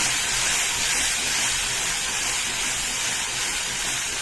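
A ground potato-tomato paste sizzles in a hot pan while being stirred, giving a continuous bright, hissing crackle that stays loud and even throughout.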